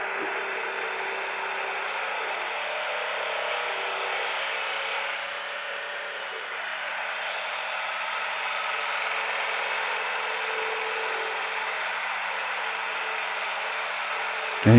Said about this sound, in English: We'll come in with that 5/8 drill bit.